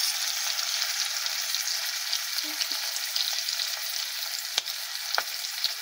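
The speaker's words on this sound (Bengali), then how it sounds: "চিংড়ি মাছটা তো অল্পতেই ভাজা হয়ে যায়" Prawns fry in hot oil in a pan for a spicy banana-flower prawn dish, a steady close sizzle broken by a couple of sharp utensil clicks.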